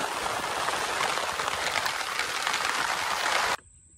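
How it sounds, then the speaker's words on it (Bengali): Heavy, steady rain pours down by a river during a fishing trip, a dense close hiss that fills the scene alone and then cuts off abruptly near the end. "মুসল ধারায় বৃষ্টি নেমেছে প্রচুর বৃষ্টি"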